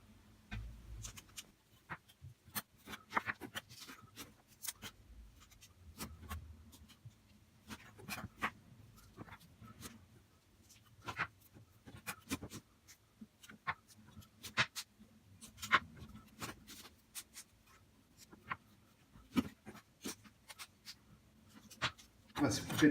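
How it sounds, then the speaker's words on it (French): A knife chops vegetables into quarters on a cutting board for a veal chop dish, sharp irregular taps spaced through a quiet kitchen with a low background hum. "je ne les coupe pas en deux seulement, je les coupe en 4"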